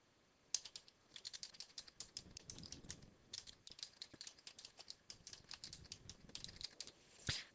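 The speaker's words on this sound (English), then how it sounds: "So I've typed what I wanted to say." Rapid, steady keystrokes on a computer keyboard as narration text is typed, close and clear, with uneven clusters of clicks and brief pauses throughout, no voices.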